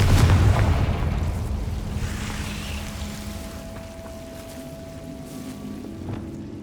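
A Confringo blasting spell explodes in the Hogwarts Legacy video game, with a heavy boom at the start that rolls off into a long fading rumble and faint tonal hum.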